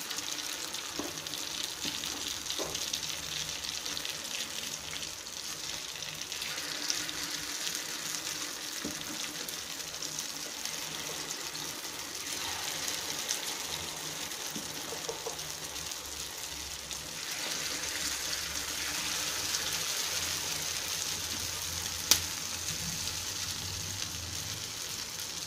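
Vegetable kuzhi paniyaram batter meets an oiled paniyaram pan and sizzles with a steady, close hiss and crackle, while scattered faint pops and clinks run through the frying.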